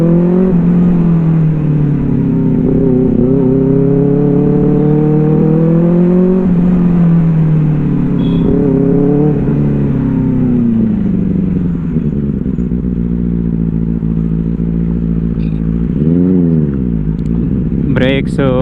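Benelli 600i four-cylinder motorcycle fitted with an IXIL exhaust idles and revs close by, its steady engine note rising and falling through several throttle blips while someone talks over it throughout.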